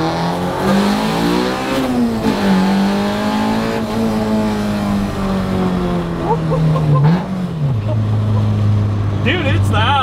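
A Spoon Type One Honda Civic Type R engine revs and climbs steadily in pitch under acceleration, droning loudly and continuously up close, with voices talking over it.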